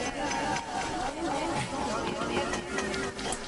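A dense crowd soundscape of overlapping chatter and babble, pumped rhythmically by a Kickstart sidechain plugin so the murmur swells and dips in steady pulses, with no single clear voice.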